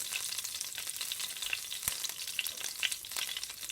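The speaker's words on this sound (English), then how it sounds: "So now, guys, I'm going in with my onions, garlic," Onions, garlic, peppers and green onions sizzle and crackle steadily in a hot pan, a dense, close frying hiss with small pops and no talk.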